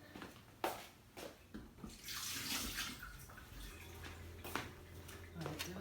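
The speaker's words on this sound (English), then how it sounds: "Let's give that a rinse." Tap water runs and splashes as a couple of garlic cloves are rinsed under it, a steady stream with uneven spatters and drips, faint and close.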